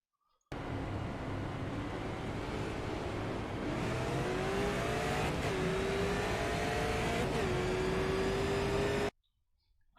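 A race car engine holds a steady drone at speed, a rising whine sliding upward and then dropping back twice as it rolls on; loud and continuous for about nine seconds, then cutting off abruptly.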